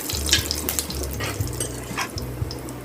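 Curry leaves hit hot oil with already spluttered mustard seeds for Tirunelveli-style chicken kuzhambu, making a close, steady crackling sizzle with faint scattered pops.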